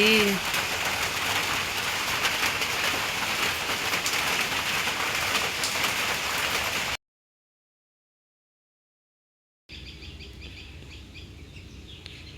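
Heavy rain pours steadily in Tangail, a dense hiss with faint bird chirps behind it. It cuts to silence partway through, then the rain resumes.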